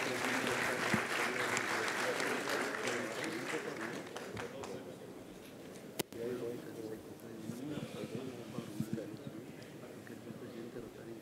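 Audience applause for a speaker at a conference session, fairly loud clapping at first that fades after about four seconds, giving way to talking and murmuring from the room.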